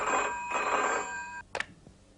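A telephone rings steadily for over a second with a bright electronic bell tone, then stops and is followed by a brief clatter as the handset is picked up, in a Hindi TV drama scene.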